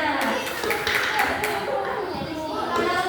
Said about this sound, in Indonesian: tepuk tangan buat Kana